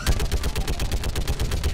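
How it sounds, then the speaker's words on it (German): A mounted heavy gun in the video game Mass Effect 3 fires a rapid, steady burst of loud, punchy shots, about a dozen per second without pause. "Oh, scheinbar dürfen wir hier die schweren Geschütze jetzt nutzen."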